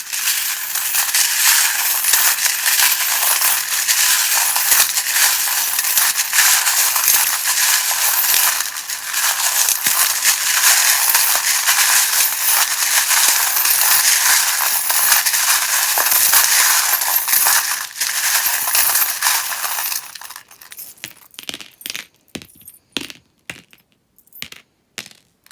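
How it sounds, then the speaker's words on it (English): A dense, continuous clatter of small charms and dice being shuffled together, loud and close, then easing into scattered separate clicks and knocks. "you might just want to turn it down while I start shuffling, because they can be a bit loud"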